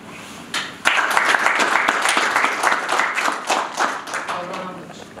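An audience at a founding assembly of a political movement in Split-Dalmatia county bursts into steady applause after a brief lull, sustained dense clapping filling the hall for several seconds with no talk.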